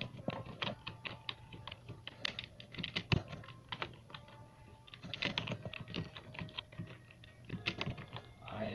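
Someone types a folder name on a computer keyboard, a close, quiet patter of quick keystrokes in uneven bursts with short pauses between them.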